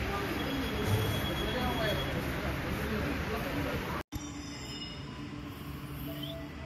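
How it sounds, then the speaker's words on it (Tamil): A metro train rolls in with a steady broadband rumble and high-pitched wheel squeal, loud and close, with a brief cut near the end before the noise resumes. "ட்ரெயின் வந்துருச்சு. மெட்ரோ சீக்கிரமாவே வந்துருச்சு இன்னைக்கு."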